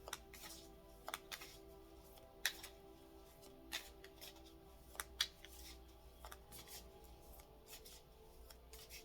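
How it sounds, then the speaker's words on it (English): Light, quick riffling of playing cards in short bursts, soft papery flicks and slides repeating irregularly, close up with no voices. "I'm going to do a light shuffle here."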